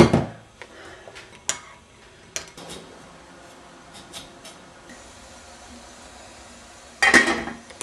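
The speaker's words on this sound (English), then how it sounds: "Give that a stir so that the flour lifts off the bottom." A spoon stirs flour-thickened gravy in a pan for roast chicken, giving a few scattered clinks and scrapes against the metal, with sharper knocks at the start and a louder clatter near the end.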